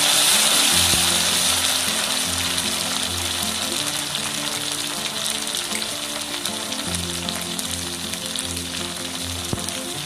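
Tomatoes tossed into a pan of golden frying chicken set off a loud, steady sizzle and crackle that carries on throughout, with faint stirring and occasional sharp pops.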